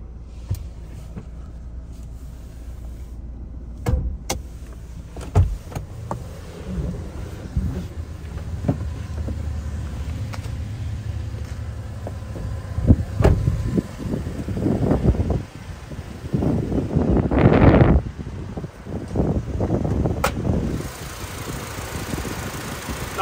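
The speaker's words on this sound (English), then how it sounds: "Now while we've got the car running, we'll just pop the hood too." A 2022 Toyota Hilux 4x2 Workmate with a 2.7L petrol engine and automatic gearbox idles steadily with its hood popped open, a low even hum under wind buffeting and a few sharp clunks and knocks nearby.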